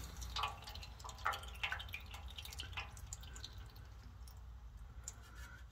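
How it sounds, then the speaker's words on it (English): Transmission fluid from a Ford C4 automatic in a Mustang drips steadily into a drain pan, a run of small irregular liquid plinks over a low background hum, fairly faint and close. "You sit there and let it drip for a little while."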